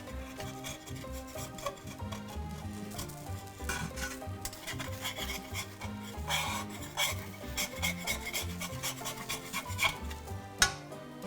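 Metal offset spatula scraping and rubbing under a Breton galette cooking in a hot pan, a quiet continuous rasp over a soft background sizzle, with one sharper scrape near the end.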